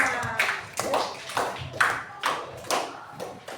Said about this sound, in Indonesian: Tepuk tangan untuk kelompok 5.